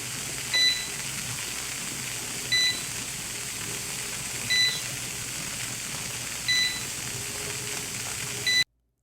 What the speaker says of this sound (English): When the countdown is finished, the unit will start beeping